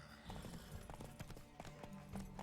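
Hooves gallop in a rhythmic clip-clop during a horse race in the video game The Witcher 3, with steady repeated impacts and faint game ambience beneath, overall quiet.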